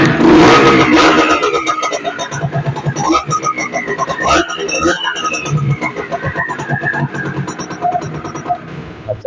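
A used motorbike's engine revs up and down with rising and falling pitch, close by at a second-hand bike dealer in Bangladesh, while people talk over it.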